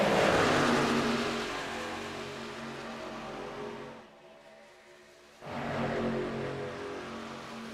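Race cars at Daytona International Speedway during a women's-only race roar past loudly, engines screaming close by, fading briefly to a quieter lull before a fresh pack surges back in at full volume.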